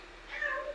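A cat meows once, a short soft call rising and falling, fairly quiet and close by, with faint room noise around it.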